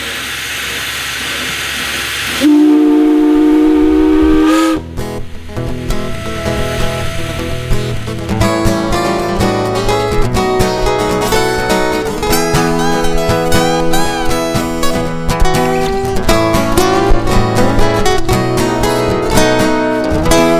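A double-headed steam train of two steam locomotives on a heritage railway gives a steady loud hiss, then a sustained whistle tone, followed by a long, busy stretch of layered, pulsing mechanical sound.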